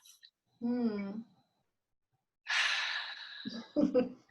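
A person draws a deep breath in, pauses in silence, then lets out a long breathy exhale followed by a couple of softer breaths, quiet and close.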